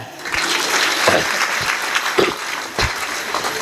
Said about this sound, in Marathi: वाजवा की टाळ्या